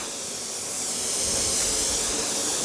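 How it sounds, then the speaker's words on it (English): A spray gun sprays paint onto wood in a workshop, a steady loud hiss lasting throughout with no breaks, close to the listener. "just look at where the spray's landing and just seeing if you're covering"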